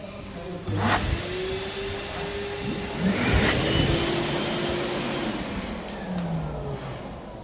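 Electric hand dryers, a PHS Whisper XL and a Kangaroo Jet Dry, blow with a steady whooshing roar and a high whine, one kicking in early and another surging louder partway through before the noise tapers.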